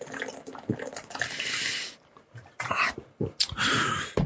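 A person drinks water from a bottle close to the mic, with wet liquid gulps and swallows, breaths between them, and a short pause near the middle before the drinking resumes.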